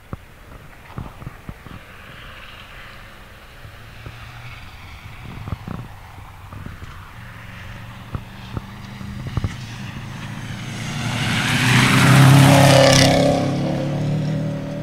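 A Subaru Impreza GC8 club rally car launches off a stage start line, first scattered clicks and idle, then an engine swelling into a loud, close revving surge near the end.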